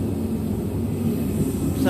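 A steady low whooshing hum of a car heater blower fan in a 2500HD truck fills the clip, constant and fairly loud, with a brief voice near the end.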